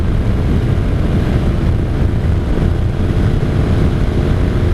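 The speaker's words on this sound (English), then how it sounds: "ride your 80 horsepower 1983 Honda Saber V45 and get those juices flowing" A 1983 Honda Sabre V45 (VF750C) motorcycle, rated at 80 horsepower, roars steadily while being ridden, a loud, dense engine and wind drone with no talking, heard from the rider's position.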